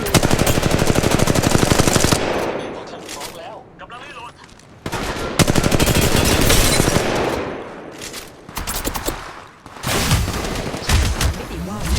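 Rapid automatic gunfire in the mobile battle-royale game Apex Legends Mobile, loud and close in long dense bursts with short gaps, interrupted by quieter stretches of game sound.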